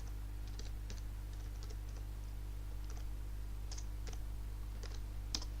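Someone types a short command on a computer keyboard in MATLAB, giving sparse, faint key clicks in small uneven clusters over a steady low hum, with no voices.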